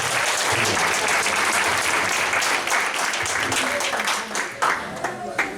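Sustained applause from a church congregation welcoming a visitor, a dense wash of clapping that holds steady before thinning toward the end, with some voices mixed in.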